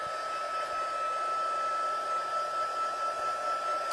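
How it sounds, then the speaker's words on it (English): A heat embossing tool blowing hot air over shimmery white cardstock, a steady close whooshing hiss with a faint high whine, running evenly throughout. "we're going to heat up this embossing tool."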